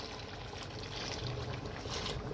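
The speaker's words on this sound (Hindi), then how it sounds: "जो यखनी वाला पानी है तकरीबन 1 लीटर वो हमने शामिल किया है" About a litre of mutton yakhni stock is poured into a simmering curry, giving a steady, close watery splash and trickle for a couple of seconds with no voices.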